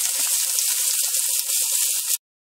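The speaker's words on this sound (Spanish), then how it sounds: "Vamos revolviendo, integrando todo y ya se está friendo y se va desbaratando, van quedando trocitos." Chorizo fries in a discada pan for Discada Norteña, a steady loud crackling sizzle running continuously up close, then cutting off abruptly at the end.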